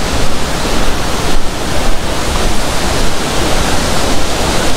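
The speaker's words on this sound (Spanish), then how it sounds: "Como veis, el agua corre," A mountain river rushes beneath a footbridge on a hiking trail in Ordesa y Monte Perdido National Park, a loud, continuous broadband roar of fast-flowing water heard up close with no break.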